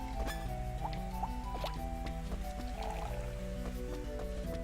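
Watering crops in the Rune Factory 3 video game, soft dripping, splashing game sounds over continuous tonal background music.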